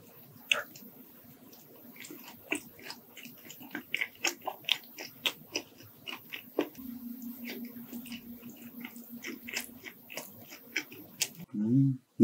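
Close, crisp crunching bites of fried chicken recur in an irregular rhythm, with soft chewing between them and a short vocal sound near the end.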